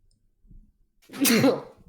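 A single sneeze during a Dungeons & Dragons tabletop game session, a short burst preceded by a faint murmur, close and moderately loud.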